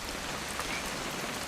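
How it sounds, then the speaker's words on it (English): Rain in the video game What Remains of Edith Finch pours as a steady, dense hiss of drops striking surfaces, even and unbroken throughout. "It's gonna rain the whole weekend, isn't it?"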